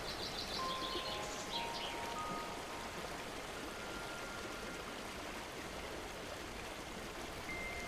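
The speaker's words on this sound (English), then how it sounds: "The water runs clear and smooth over a bed of gravel" Water trickles and babbles steadily at close range over a gravel bed, with faint bird calls and chirps floating over the constant flow.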